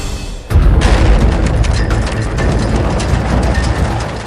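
A tunnel blast at the Zojila Pass bypass tunnel hits with a sudden loud boom, then rolls into a heavy, sustained rumble that keeps roaring for several seconds.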